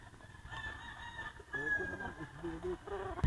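A pure white Kelso gamecock on a gamefarm crows once, a moderately faint drawn-out call against light background noise.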